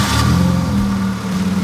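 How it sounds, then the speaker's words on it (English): A vehicle's engine starting and settling into a steady idle during a fuel injector cleaning job, with a loud, continuous low mechanical hum running throughout. "Now we're gonna go ahead and start the vehicle."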